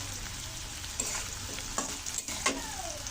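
Potato pieces sizzle steadily in a hot pan for Kashmiri dhoka, broken by several distinct scraping stirs near the end, with no voices present.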